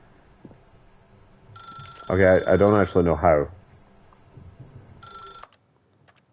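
A telephone rings in a video game with a brief electronic tone while someone speaks over the middle of it, then the tone returns alone for a moment before fading to near silence.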